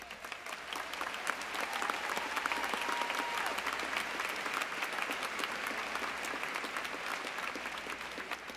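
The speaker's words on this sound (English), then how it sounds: "please stand so that we can applaud your accomplishments" Steady applause from a large crowd at a Florida State University summer commencement, honoring graduates who stand for recognition, dense clapping that rises in the first second and holds evenly throughout.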